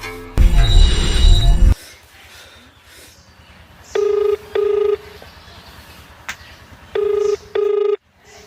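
A landline-style telephone rings in a rural Awadhi comedy skit: first a loud, harsh, buzzing bell burst lasting over a second, then two pairs of clean electronic ring tones spaced apart, close and loud over a faint background hum.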